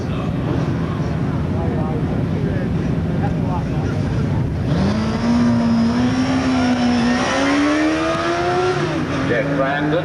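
A turbocharged Suzuki motorcycle pulls away from the line at the Brighton Speed Trials, its engine note climbing steadily in pitch as it accelerates, loud and close against constant wind and crowd noise.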